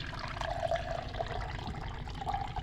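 Tap water is poured over leftover cooked rice in a home kitchen, a steady close splashing and trickling stream that runs unbroken throughout.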